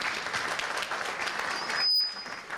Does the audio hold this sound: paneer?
no